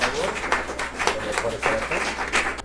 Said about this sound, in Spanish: Un fuerte aplauso, Diego, por favor.